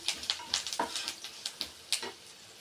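Curry leaves sizzle and crackle in hot oil in a pan, a steady close frying hiss broken by a few sharp pops, with no talking.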